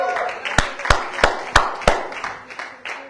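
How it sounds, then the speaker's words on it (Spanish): A church congregation claps in unison, five sharp, evenly spaced claps at a brisk steady beat, then fainter, looser claps trailing off. "Aplauda al Rey, gloria a Jesús."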